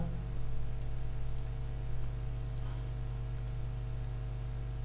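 A few light clicks, scattered and quiet, over a steady low electrical hum.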